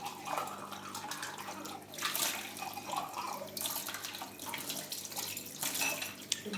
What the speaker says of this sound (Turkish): bulaşığı tez yıkarım, temiz yıkarım ben